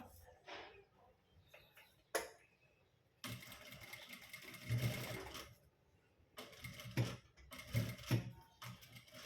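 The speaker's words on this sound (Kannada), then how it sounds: "ಫಸ್ಟು ನಾವು ಇಲ್ಲಿ ಬಿಟ್ಟಿರೋದು ಒಂದು ಸ್ಟಿಚ್ ಹಾಕಿಬಿಡೋಣ" A sewing machine stitching a blouse shoulder runs in a few short bursts of rapid mechanical whirring, separated by quieter pauses with faint handling noises.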